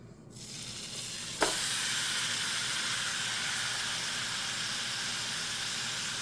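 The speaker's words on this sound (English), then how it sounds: "Now I'm gonna saute my meat" Beef seasoned with garlic powder, paprika and salt hits a hot pan with a sudden loud sizzle, then keeps frying with a steady, close hiss that stays even to the end.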